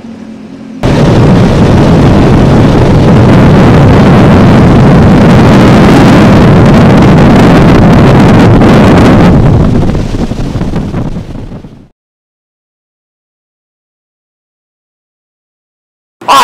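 A red 2004 Sea-Doo 200 Speedster jet boat with 154 hours runs on a river, a loud, roaring engine with heavy wind buffeting that fades away before near silence.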